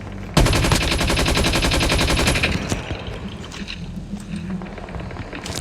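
Rapid automatic gunfire in the Call of Duty Mobile video game, a loud sustained burst lasting about two seconds, then scattered fainter shots over a low rumbling background, with no voices.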